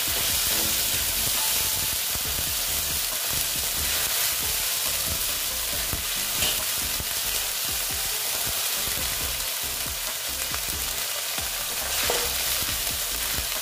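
Ginger paste sizzling in hot oil in a pan for a soybean and chana dal dish, a loud continuous frying hiss with stirring scrapes throughout, no voices.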